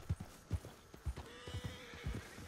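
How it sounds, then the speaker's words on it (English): Clip-clopping hooves trot steadily up close in the video game Red Dead Redemption 2 Online, and a horse whinnies partway through, its drawn-out neigh riding over the hoofbeats. "There's a horse."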